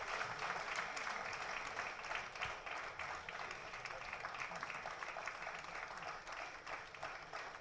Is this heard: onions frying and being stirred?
no